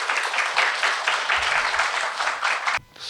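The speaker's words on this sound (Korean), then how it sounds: "우리 김진욱 대표님 뜨거운 박수로 맞이하도록 하겠습니다." Audience applause at a residents' briefing for a Moa Town redevelopment district, a dense, steady wash of clapping from a hall crowd that holds for nearly three seconds and then cuts off abruptly.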